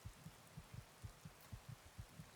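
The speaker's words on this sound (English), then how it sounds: "I hear the heartbeat." Heartbeat effect in a dark fantasy video game that plays when the player is hurt, a steady low double-thump pulse repeating about every half second, muffled and alone with no talk.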